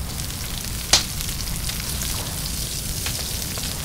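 Fish sizzle directly on top of a wood fire in the survival game Stranded Deep, a steady crackling fry hiss like light rain, with one sharp snap early on and no talk.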